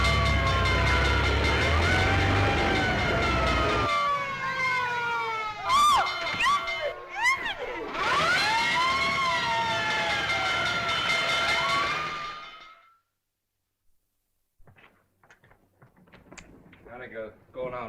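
A 1937 fire engine siren rises and falls in loud wailing sweeps, mixed with shouting and cheering from a crowd, then cuts out to near silence broken by faint scattered sounds.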